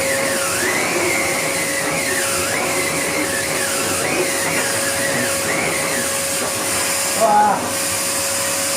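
A Karcher T9/1 Bp backpack vacuum cleaner runs with a powered turbohead attached, giving a steady, close whine with a constant tone. Its pitch swoops up and down repeatedly as the load changes, and someone gives a brief exclamation near the end.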